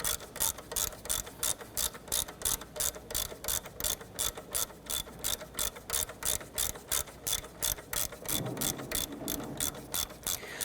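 A ratchet wrench spinning out a 12mm bolt on a 1992-1996 Toyota Camry 2.2L four-cylinder, a rapid, steady string of close metallic clicks running for about ten seconds, alone without talk.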